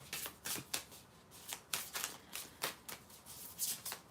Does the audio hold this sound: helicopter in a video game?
no